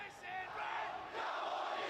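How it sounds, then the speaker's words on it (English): Rostrevor school supporters chant in unison at a school football grand final, a loud, sustained crowd roar of massed voices swelling and dipping with a soccer-style feel. "you can hear, for those if you can hear that, that's the Ross Trevor crowd. It's almost like a soccer feel about it, all the chant"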